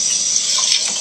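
Water from a kitchen sink tap runs in a steady, close hiss for about a second, with no voices.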